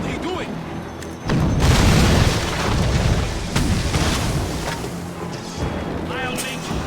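Mortar explosions in the video game Assassin's Creed Rogue, a heavy boom landing abruptly and rolling into a rumbling roar that fades over several seconds, with voices shouting over the noise.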